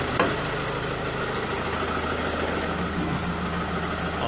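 A Ford Mondeo 2.0 TDCi diesel engine runs close by with a steady, dense drone, holding fairly even throughout with little audible rise in revs.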